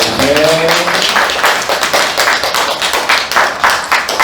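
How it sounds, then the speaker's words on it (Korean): A church congregation claps together in thanks during worship, dense sustained applause filling the room, with a brief voice near the start. "우리 하나님께 감사의 박수."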